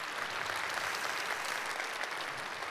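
A church congregation applauds new members with dense, sustained clapping from many hands, even and moderately loud from start to finish.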